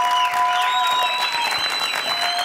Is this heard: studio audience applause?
yes